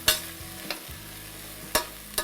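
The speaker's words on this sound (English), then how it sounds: "We'll stir these together and let them start to caramelize" Onion and red pepper frying in a pan, a soft steady sizzle broken by four sharp stirring scrapes and clacks of the utensil at uneven intervals, no talk.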